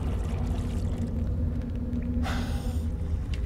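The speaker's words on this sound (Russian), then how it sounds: "Теперь нам нужно найти генчик, залить в него топливо." In a horror video game, fuel is poured into a generator in a brief gurgling splash that rises over a steady, low rumbling background.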